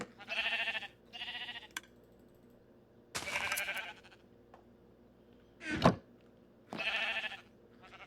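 Sheep bleating on a Minecraft farm, several short nasal baa calls in separate bursts with pauses between, fairly close and clear over near silence, with one brief lower thud partway through.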